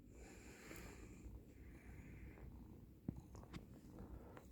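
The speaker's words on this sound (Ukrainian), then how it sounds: "Хто тут мурчить?" A cat purrs steadily and close up, a soft continuous rumble with a few small clicks and rustles partway through.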